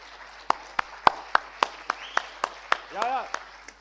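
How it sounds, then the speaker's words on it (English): Applause at a Partnering for Change 2024 event comes as sharp, evenly spaced claps, roughly three or four per second, more like slow rhythmic clapping than a full ovation, with voices and a brief whistle-like tone over it. "I said big applause."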